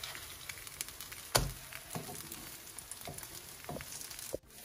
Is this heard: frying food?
yes